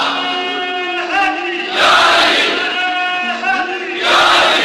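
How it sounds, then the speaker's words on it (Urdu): A large crowd at a Badr Day religious gathering chanting slogans loudly in unison, a leader's voice calling and the mass of voices answering in two strong surges. "بھئی آج تو دن ہے نا نعرے لگانے کا، یوم البدر منا رہے ہیں"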